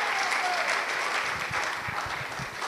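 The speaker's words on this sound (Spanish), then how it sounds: "Alguien dele palmas al Rey." A church congregation breaks into sustained applause in honor of the King, a dense wash of many hands clapping steadily throughout, with faint voices mixed in.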